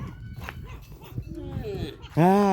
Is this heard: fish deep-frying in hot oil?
no